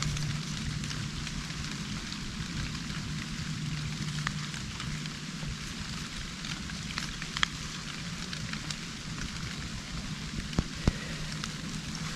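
Rain falls steadily in the Linderödsåsen Ridge area of southern Sweden, a soft unbroken hiss with scattered close drips and faint crackles, no voices.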